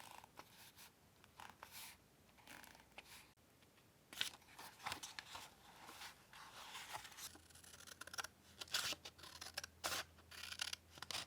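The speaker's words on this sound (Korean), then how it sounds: "크기에 맞춰 잘라주고 풀테이프로 붙여줬습니다." Scissors snip through decorative memo paper while a bullet journal is set up, with a series of quiet, crisp cuts and light paper rustling, close and alone.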